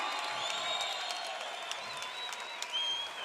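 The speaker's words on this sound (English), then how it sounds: "How about a round of applause?" Audience applause and cheering at a Front Street Fights bout night in Hamilton, a steady crowd roar of clapping with scattered whoops and whistles, fairly distant and sustained throughout.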